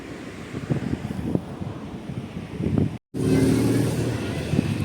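Cars queue on a road to board a ferry in rural Japan, their engines forming a low, uneven rumble with passing surges, muffled by wind buffeting the microphone.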